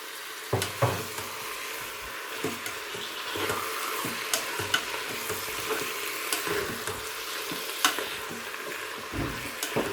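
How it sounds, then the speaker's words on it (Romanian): Pork and potatoes with salt, pepper and spices brown in a Tefal One Pot, a constant soft sizzle broken by scattered stirring knocks and scrapes, close by and moderate in level. "Vom amesteca până când vom considera că ingredientele noastre s-au rumenit."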